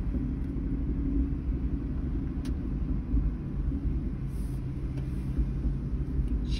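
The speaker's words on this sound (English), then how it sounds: "Barely in touch throttle and she's snappy" A 2007 Dodge Dakota with a stick shift runs under light throttle, giving a steady, close, low engine rumble with only slight swells and no sharp revving.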